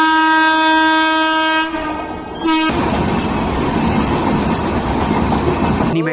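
Cartoon train running: a loud sustained multi-tone horn blast that breaks off briefly, then steady rumbling rail noise with clattering wheels, close and continuous, no voices.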